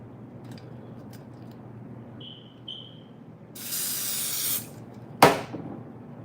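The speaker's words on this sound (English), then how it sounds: "Let me spray this side." Quiet handling and a brief high whine, then one steady second-long hiss of hairspray, followed by a sharp clack as the can is set down.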